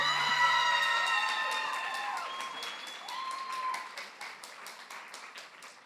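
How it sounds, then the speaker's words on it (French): Audience applause at an awards ceremony fills the clip, dense clapping that starts loud and gradually thins and fades, with tonal sounds over the first few seconds. "Je vous demande de faire un tonnerre d'applaudissements pour Madame Justine Denis, s'il vous plaît."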